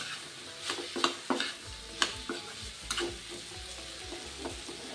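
Tomatoes with turmeric are stirred in a pan, with irregular scraping clicks of the spoon against the metal over a soft, steady sizzle, close and fairly quiet.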